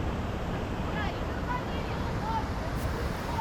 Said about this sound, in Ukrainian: Вода падає з кам'янистих порогів з дуже великою силою.